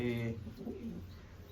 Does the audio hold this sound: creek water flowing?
no